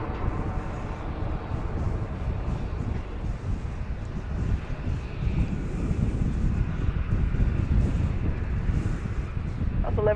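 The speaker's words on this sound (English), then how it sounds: "Once it applies those thrust reversers, makes a little more noise" An airliner landing at Dallas Love Field roars with broadband engine noise as its thrust reversers are applied, a loud sustained rush with wind buffeting the microphone throughout.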